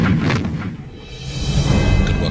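Anti-aircraft cannons fire from warships in a naval battle at sea, loud booming blasts with rumbling echo, heavy and close throughout the short stretch.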